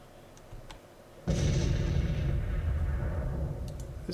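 A Civil War artillery battery in the Grand Tactician strategy game fires a heavy booming shot that rolls on with a long rumbling tail, preceded by faint distant pops.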